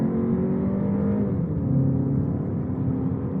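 The EA888 turbocharged four-cylinder in a 2023 Volkswagen Tiguan runs with a steady, loud, low-pitched engine drone and a smooth shift in tone partway through, with no talking.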